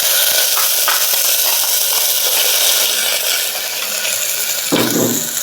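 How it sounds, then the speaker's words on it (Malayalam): Chopped ginger and garlic sizzle steadily in hot coconut oil inside a cooker while making a Kerala-style mutton curry, a loud continuous frying hiss running throughout with a brief burst of stronger crackle near the end. "ഇനി അതിലേക്ക് ഇഞ്ചി വെളുത്തുള്ളി നമ്മൾ അരിഞ്ഞെടുത്തത് ഇട്ട് കൊടുക്കാം."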